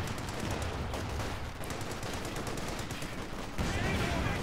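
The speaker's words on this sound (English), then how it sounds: "Two over here taking some shots, I guess, from the 50 cal" Dense, continuous gunfire and battle noise from the Company of Heroes 2 strategy game, including a .50 cal machine gun, rattling rapid bursts under a constant loud wash with a voice talking over it.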